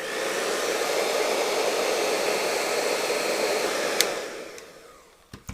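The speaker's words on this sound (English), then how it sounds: "you can stick a hairdryer through the head hole, and it very effectively and very quickly dried it" Hair dryer blowing steadily into the head hole of a vintage American Girl doll, a loud continuous roar that lasts about four seconds and then winds down, with a couple of clicks at the end.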